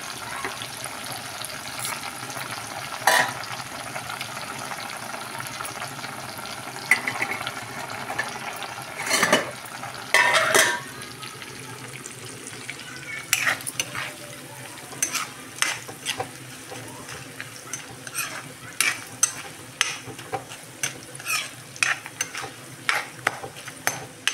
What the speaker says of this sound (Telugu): ఎర్రగా వేగిన దాకా వేయించుకోవాలండి.